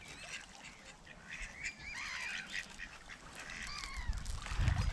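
Ducks and geese call at Barden Lake, a chorus of honks and quacks overlapping at moderate distance, with soft footsteps or rustling growing nearer toward the end and no voices.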